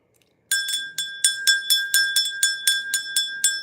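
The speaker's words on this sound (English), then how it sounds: "they're asking me to ring my bell" An old bell handed down through a family is rung repeatedly, about a dozen bright, evenly spaced strikes with shimmering overtones, close and clear with no talking.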